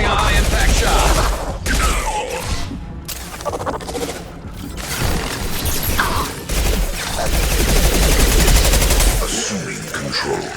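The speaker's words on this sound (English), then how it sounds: "Firing a high impact shot!" Rapid bursts of gunfire in Mass Effect 2, sharp repeated shots and rattling volleys in clustered bursts with brief gaps, loud and close, mixed with game sound effects.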